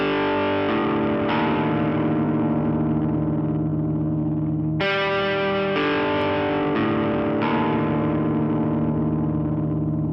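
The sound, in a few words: distorted electric guitar playing a riff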